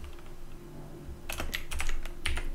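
Close computer keyboard typing as a command is entered on a Linux Debian system, a short burst of quick keystrokes following a quieter pause, no talking.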